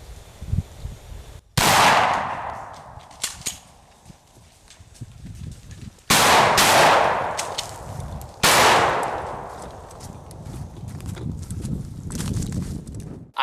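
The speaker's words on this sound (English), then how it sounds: "So I just started shooting." Sharp, loud shotgun blasts during a turkey hunt in northern Arizona, three or four close reports spread over several seconds, each trailing off, with rustling and clattering between them.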